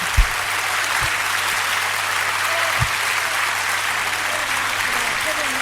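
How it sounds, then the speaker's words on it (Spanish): Steady, dense applause from a large audience, sustained throughout with a few low thumps underneath. "Un fort aplaudiment"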